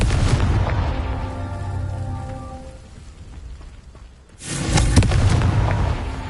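In Hogwarts Legacy, a Confringo fire spell erupts in a loud, close, crackling blast that follows a fading tonal hum of the casting, then rumbles on with a roar like heavy rain.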